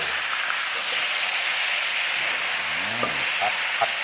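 Eggplant stir-frying in a pan, with a continuous loud hiss and sizzle and a few brief faint tones near the end.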